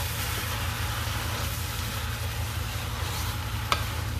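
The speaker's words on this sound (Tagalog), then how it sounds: "Ngayon, haluin na natin." Native chicken pieces with gizzard and potato being stirred in a pan, a steady sizzling hiss running throughout with a low hum underneath and one brief clink near the end.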